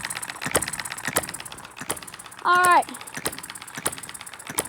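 A small hit-and-miss engine chuffs nearby in an even, repeating rhythm of sharp firing pops, with a short spoken remark partway through.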